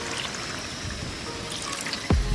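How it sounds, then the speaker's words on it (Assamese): Water is poured into duck curry with pumpkin frying in a pan outdoors: a steady sizzling hiss, then a sudden loud splash and bubbling surge near the end. "এতিয়া অলপ পানী দি আৰু অলপ সিজিব দিম।"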